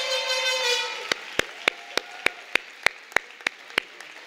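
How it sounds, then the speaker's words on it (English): Applause for a graduating class at a school graduation and award ceremony: after a held tone fades, a run of sharp, evenly spaced claps rings out clearly, about ten in steady rhythm. "one last round of applause for the class of 2021"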